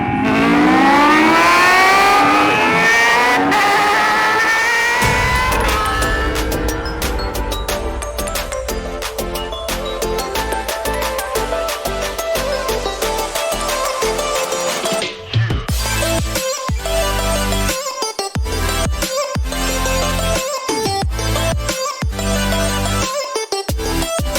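A powerful supercar engine roars and revs upward in pitch, loud and close, then gives way to steady rhythmic pounding with music.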